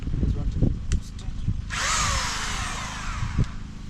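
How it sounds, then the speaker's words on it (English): Power drill boring mounting holes for CCTV cameras at a villa, a bright, loud burst of whirring that starts partway through and runs for about two seconds, close by, with people talking around it. "So I just want to drill. There are some holes we need to drill."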